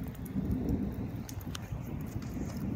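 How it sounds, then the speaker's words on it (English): Rain falls steadily with a soft continuous patter and a few sharper drops, with a faint low rumble underneath. "It is raining. I have like wet stuff all over my screen."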